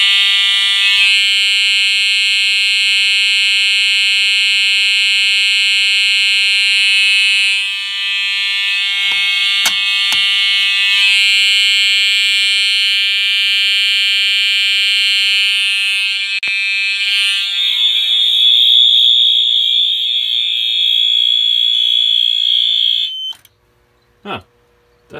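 A Simplex 4250-120 fire alarm blares in a walk test, a loud continuous high tonal buzz that shifts pitch partway, then stops near the end with a few brief clicks.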